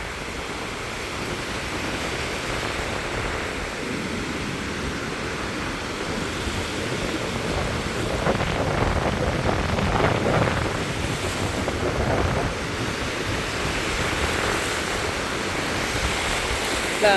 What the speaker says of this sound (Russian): И очень сильный ветер.